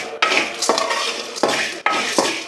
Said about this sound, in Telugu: మిగిలినవన్నీ ఇలా వేయించుకోవాలి